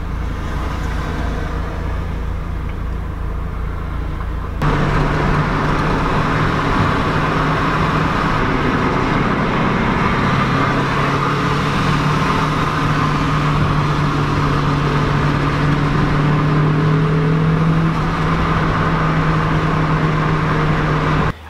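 A car fitted with a Vortec supercharger and FMU runs steadily near the mic, a loud, sustained engine drone that steps up sharply in level and pitch after a few seconds as it climbs into boost, then holds a strong tone.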